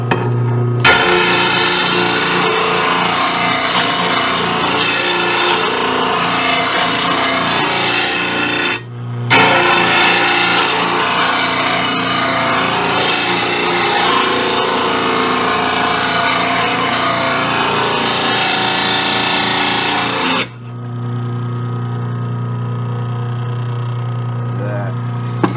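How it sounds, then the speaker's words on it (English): Rotary blade grinder sharpening a mower blade, a loud, continuous abrasive grinding rasp over a steady motor hum, broken by two brief pauses before the grinding stops and the motor keeps whirring alone. "I'm gonna try to give you a shot of this rotary blade grinder in action."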